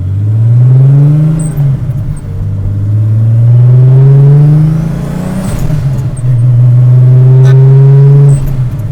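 A 400hp turbocharged BMW E12 with an M30 engine drones loudly from inside the cabin while driving, the engine note rising through long pulls, dipping between shifts and climbing again.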